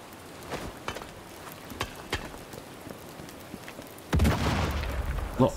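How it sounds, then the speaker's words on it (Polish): Explosion in the Sniper Elite 5 shooting game, a sudden loud boom after a stretch of scattered faint thuds and footsteps, with the blast's rumble lingering to the end. "Ktoś usłyszał wybuch, dobra."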